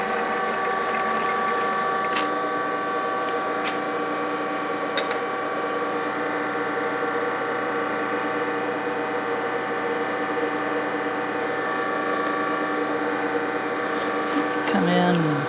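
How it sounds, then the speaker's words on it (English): A Brown & Sharpe Micromaster grinding machine spindle runs steadily, warming up with a continuous mechanical hum and whine at constant level, with a brief click near the start and a slight change toward the end. "I'm just letting the spindle run, let it get warmed up a bit"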